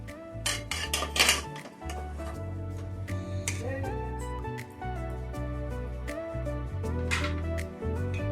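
Crisp fried gur murali snacks are scraped and strained out of a cooking pan, with repeated metallic clinks and scrapes of a utensil against the pan in an irregular rhythm, close and clear, alone without talk.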